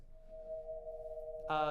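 A synthesized reverb built from the spectrum of the element zinc holds a sustained, tonal hum of a few steady pitches. It swells into a brighter, richer chord near the end, faint and without speech.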